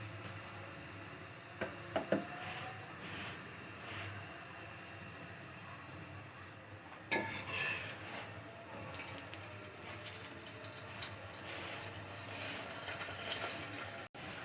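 Ghee sizzling under a radish paratha in a pan over medium heat, a steady low frying hiss and crackle with a few brief louder pops early on and a bright burst around the middle, no talking.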